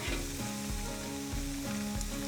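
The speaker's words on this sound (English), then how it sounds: "You can hear it sizzling, hopefully," Meat seasoned with salt and pepper sizzling on a grill, a steady faint crackle and hiss with a soft rhythmic scraping or stirring pattern underneath, no voices.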